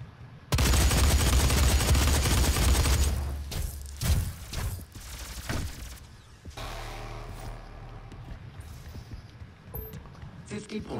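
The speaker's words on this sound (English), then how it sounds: "I'm gonna stay right here and shoot from here." Loud, dense gunfire from the DOOM beta shooter game roars continuously for a few seconds, then breaks into shorter bursts before fading to lower background game noise.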